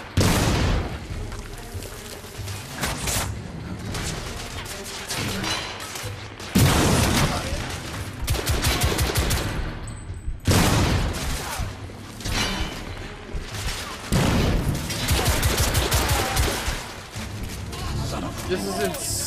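Gunfire from The Order 1886, with heavy booming shots and rapid volleys crackling in dense bursts through a loud battle, with people talking over it.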